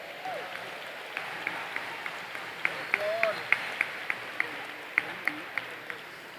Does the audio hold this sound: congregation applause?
yes